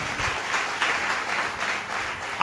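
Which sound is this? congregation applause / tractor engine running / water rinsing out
congregation applause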